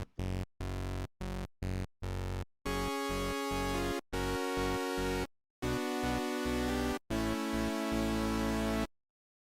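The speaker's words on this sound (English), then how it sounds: "This is the sound of just oscillator number 1, which is already set on the sawtooth waveform here." Single oscillator of Arturia's OB-X software synth set to a raw sawtooth wave, sounding a run of short staccato notes and then several longer held tones separated by gaps, bright and buzzy with nothing else playing.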